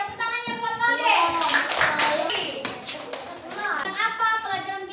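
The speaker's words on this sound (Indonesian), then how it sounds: "Tepuk tangannya buat Valdes." Schoolchildren in a classroom clap together in a brief burst, with young voices chattering and calling out over the clapping.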